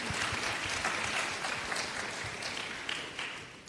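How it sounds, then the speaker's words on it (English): A conference audience breaks into brisk, continuous applause, many hands clapping at close range in an even burst that fades only slightly over a few seconds. "Let's give all of us a big round of applause."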